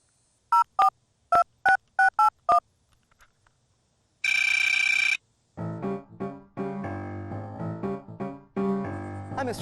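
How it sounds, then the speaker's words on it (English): Telephone keypad tones as a number is dialed for a pest control company, a quick burst of separate beeps, then a single steady ringback tone, followed by a bright melodic phone tune that plays on. "Let's see if I can call them and get them over here today."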